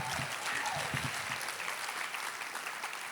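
Audience applause and cheering at the Scotsman Fringe First Awards ceremony in Edinburgh, a dense continuous clatter of many hands, fairly far off and steady throughout with a few louder bursts early on.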